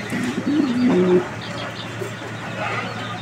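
Pigeons for sale cooing, a low throaty call rising and falling through the first second, then quieter background murmur and faint ambient noise.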